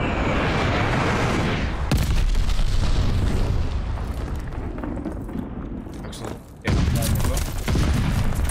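A glide bomb blows up in a Call of Duty: Vanguard esports match, with a heavy burst of booming blast noise and a rumbling roar that trails off, then another loud burst of gunfire and explosions.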